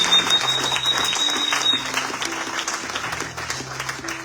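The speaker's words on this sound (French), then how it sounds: "Est-ce qu'on peut acclamer le Seigneur?" A church congregation applauds the Lord with sustained, even clapping that fills the room, while sustained organ or keyboard notes play softly beneath.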